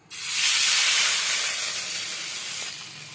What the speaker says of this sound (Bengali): এবার এই মিশ্রণটা তেলের মধ্যে দিয়ে দেবো।